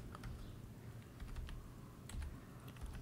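Quiet, rapid clicking of keys on a computer keyboard as an IP address is entered into a browser's address bar, a steady stream of light taps heard close by over faint background hiss, with no speech.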